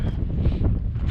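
Strong, steady wind roars at a high-altitude camp on Everest's South Col, where it funnels between Lhotse and Everest past the tents. The gusting rumble is loud and continuous, with no voices.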